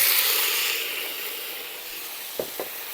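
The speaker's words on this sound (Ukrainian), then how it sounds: "поки наша картошечка вже обжарюється" Potatoes frying in a pan over an open fire: a steady, bright sizzling hiss that fades slightly, with two soft knocks near the end.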